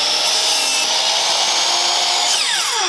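A power saw cuts through a wooden pole in a workshop, giving a loud, steady whine that holds for the whole stretch and drops in pitch near the end as the blade bogs down.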